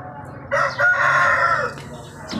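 An Aseel rooster crows once, loud and close, a drawn-out call over faint background noise.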